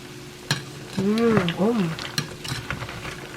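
Peanuts pan-roasting in a pan are stirred, giving scraping, rattling clatters and a few sharp knocks, with a faint background hum and sliding tonal squeaks mixed in.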